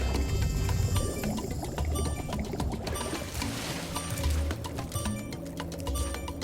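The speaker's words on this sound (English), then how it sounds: "There's a waterfall." Steady rushing water of a waterfall in the video game Spyro 3: Year of the Dragon, a dense continuous wash with some game effects layered over it, loud and unbroken.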